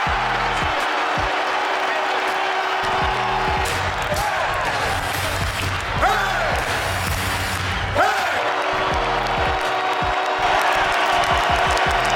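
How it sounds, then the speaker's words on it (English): A packed NHL arena crowd at a Montreal Canadiens game roars and cheers in a dense, continuous wall of noise, with a pulsing musical beat running underneath throughout. "The best crowd you can get in the NHL"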